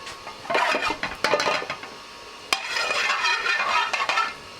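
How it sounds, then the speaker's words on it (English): Cumin seeds cook in a pan for a vegetarian curry, giving a soft sizzle with bursts of scraping and clinking as a utensil stirs them against the metal. Two busy spells of stirring are split by a brief pause and a sharp tap, heard up close with no talk. "Add to that about a teaspoonful of cumin seeds. Just cook those for a moment."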